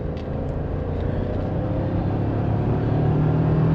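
A 2024 Toyota Tacoma SR5 4x2 pickup's four-cylinder engine revs up under acceleration, a steady low drone that rises slightly in pitch over a few seconds, heard from inside the cab with no talking.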